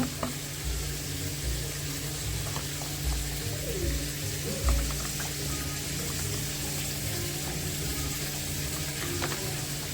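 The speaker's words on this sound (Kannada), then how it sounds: "ಮೊಟ್ಟೆನ ನೀಟಾಗಿ ವಾಶ್ ಮಾಡ್ಕೋಬೇಕು, ಒಂದು ಕಲೆ ಇಲ್ಲದೆ ಇರೋ ಥರ" Eggs being washed under running tap water in a kitchen: a continuous hiss of flowing water with small clicks and knocks scattered through it, at moderate volume and with no talking.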